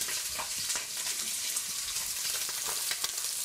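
Chicken thighs fry skin-side down in olive oil in a cast-iron cocotte, giving a steady, close, dense sizzle with crackling pops throughout and no voices.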